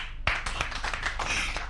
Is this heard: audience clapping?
yes